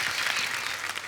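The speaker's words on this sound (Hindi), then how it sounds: "एक टैलेंटेड फैमिली के लिए जोरदार ताली हो जाए।" An audience at a Hindi television show breaks into applause, dense, loud clapping filling the whole short moment.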